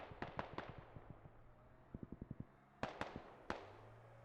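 Airstrike explosions in a military video game with British and Russian infantry fighting come as a quiet, irregular series of sharp cracking bangs, some in quick clusters, with a few louder single blasts.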